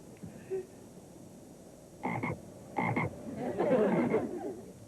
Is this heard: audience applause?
no